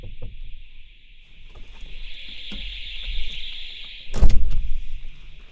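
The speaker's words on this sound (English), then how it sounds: "The fire alarm's going off in here." A fire alarm sounds indoors in a studio as a steady, shrill electronic tone that holds throughout, with a sharp loud thump near the end and low background rumble, no talking.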